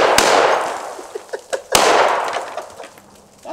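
An AK rifle fires outdoors at watermelons and pineapples: two loud, close shots about a second and a half apart, each with a long, rough rumbling tail. Small knocks and clatters fall in between, and no one speaks.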